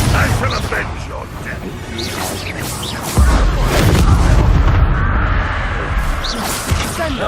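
The Confringo blasting spell in Hogwarts Legacy lands with a heavy, booming blast partway through, then a rumbling roar among other combat whooshes and impacts.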